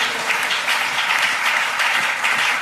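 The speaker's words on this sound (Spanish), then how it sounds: "Dale un aplauso al Señor." Applause from a church congregation fills the space, a dense, steady wash of many hands clapping at close range and holding at full level for a few seconds with no voices over it.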